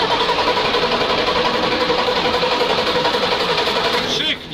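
A Praga V3S 6x6 truck's engine runs loud and close with a steady, rapid mechanical chug, then cuts off abruptly at the end.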